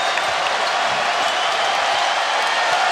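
A basketball arena crowd roars and cheers steadily at a Kentucky vs LSU game, a dense, loud wall of sound that holds evenly throughout with no break.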